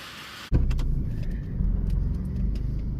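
A car engine with no idle control hooked up starts abruptly and settles into a steady, slightly uneven idle, with a low throbbing hum close by.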